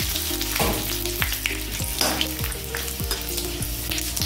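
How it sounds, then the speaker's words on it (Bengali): Panch phoron seeds and bay leaves sizzle in hot oil in a pan, a loud continuous crackling hiss with a repeating stirring or scraping rhythm roughly every half second. "আমি দেবো 5 ফোড়ন, একটু 5 ফোড়ন দেবো, আর দিয়ে দেব 2টো তেজপাতা"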